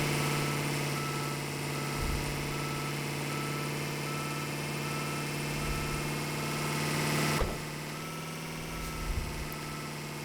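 A snow plow engine runs with the throttle held open, producing a steady, droning mechanical hum close by that stays even throughout, apart from one brief bump.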